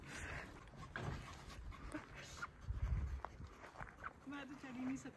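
A thirsty dog pants after lapping water from a hand outdoors, quick breathy bursts near the microphone with shuffling movement, while people talk close by.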